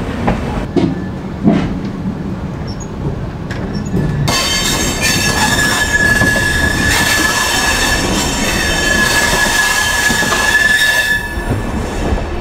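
Ramayan Express passenger train heard from on board, a steady loud rumble of wheels and carriages with a sustained high metallic wheel squeal rising partway through and continuing.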